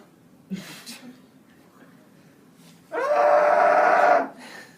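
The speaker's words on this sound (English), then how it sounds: "they hear a terrifying scream." A short gasp and faint breaths, then a loud, sustained high-pitched scream lasting over a second before cutting off.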